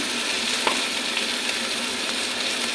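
Dried fish (shutki) frying in a pan gives off a steady, dense sizzle that holds at an even level throughout, close by, with a few faint clicks and no voices.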